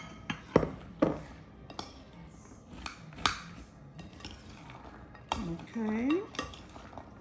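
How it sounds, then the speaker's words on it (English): Walnuts and cashews stirred with a spoon in a bowl: scattered clinks and scrapes of spoon against bowl, a few sharper taps, and a brief spoken word. "use the spoon because it's easier to mix with the spoon"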